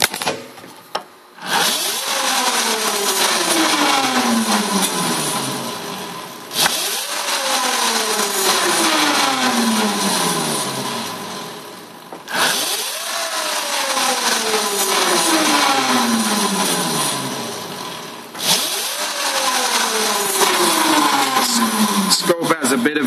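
A small engine is repeatedly pinned to full throttle and cut, four cycles of a sharp rising rev that drops and winds down before the next burst, loud and close, with talk over parts of it.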